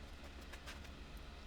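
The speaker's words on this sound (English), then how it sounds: "Okay, nice train again." A train rolls past a house right beside the tracks, a steady broad rumble with faint clacking, continuous and fairly close throughout with no one speaking.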